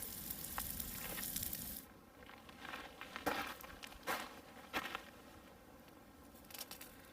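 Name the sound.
New York strip steak cooking over juniper and pinon wood fire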